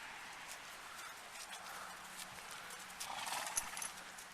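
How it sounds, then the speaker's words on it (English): A horse on a farm walks with soft clip-clopping hooves at a distance, ending in a faint whinny, all fairly quiet against outdoor background noise. "This one over here is my horse."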